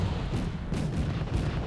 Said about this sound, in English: Now you can see some heavy artillery lobbing here.